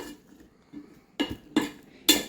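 Ivy gourd curry ingredients being mixed with salt in a bowl: three sharp clinks of a utensil against the dish after soft, quiet stirring, close and alone.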